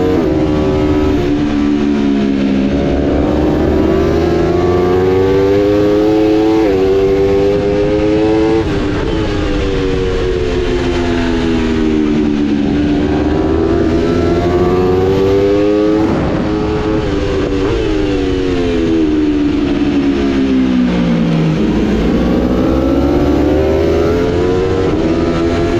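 Racing motorcycle at Hockenheim during an IDM race, traction control cutting in as it accelerates; a loud, close, continuous engine drone rising and falling through the gears with rough stuttering at each surge, no voices.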